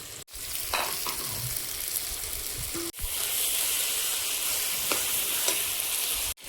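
Meat curry with ginger-garlic paste frying in a pan: a loud, dense sizzle with stirring scrapes, broken by two abrupt cuts, and no voices.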